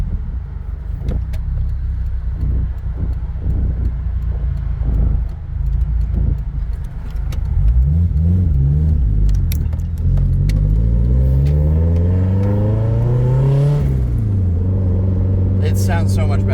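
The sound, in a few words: car engine revving with aftermarket headers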